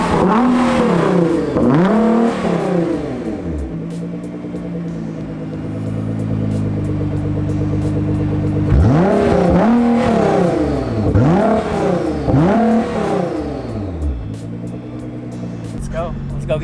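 A Nissan GT-R fitted with a Cobb exhaust revs repeatedly, sharp rising and falling blips in bursts separated by a steady idle, close and loud.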